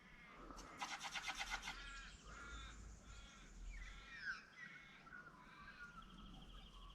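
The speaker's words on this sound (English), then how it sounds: "Plenty of birds singing." Wild birds call and sing across a calm outdoor morning after the wind has dropped, with a burst of harsh, crow-like caws early on and then scattered chirps and trills at moderate distance.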